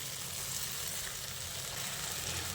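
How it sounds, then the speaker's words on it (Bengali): Fried potatoes and yardlong beans go into spice paste frying in oil for a Bengali borboti dish, giving a quiet, even hiss that holds steady without breaks or voices. "এবার আমি এর মধ্যে ভেজে রাখা আলু আর বরবটিটাকে দিয়ে দিচ্ছি"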